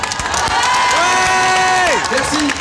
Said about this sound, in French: on peut applaudir encore une fois